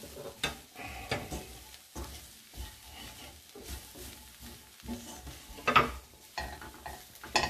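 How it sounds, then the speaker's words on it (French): Veal Marengo sautéing in a pan sizzles under repeated stirring, with clattering scrapes and knocks of the utensil against the pan in uneven strokes, close and moderately loud. "on laisse cuire un petit peu. On mélange bien."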